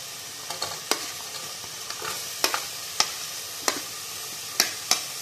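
Carrots for a vegetable biryani sizzle in a pan while a spoon stirs them, with soft frying hiss underneath and sharp scraping clicks recurring every second or so.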